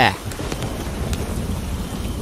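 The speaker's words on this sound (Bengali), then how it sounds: "আকাশের অবস্থাও তেমন একটা ভালো না, দেখছো না কি জোরে জোরে বজ্রপাত করছে" Heavy rain pours steadily during a Kalbaishakhi thunderstorm at night by a roadside tea stall, a dense continuous roar with a short sharp crack at the start.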